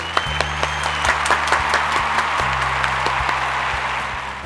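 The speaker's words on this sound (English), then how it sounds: "I think that deserves a round of applause." A crowd gives a sustained round of applause, dense clapping from many hands at an even level throughout, with a faint voice briefly underneath.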